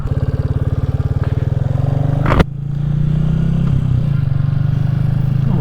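A Royal Enfield Classic 350 motorcycle thumps along with a steady, close single-cylinder pulse, then a sharp clatter breaks in and the engine settles to a lower, smoother idle as it pulls in.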